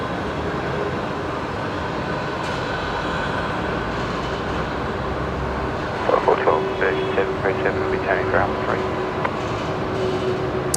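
A Qantas airliner arriving from Auckland touches down on runway 19 left at Brisbane Airport. A distant, steady jet roar swells, then a whining engine tone rises and holds through the second half.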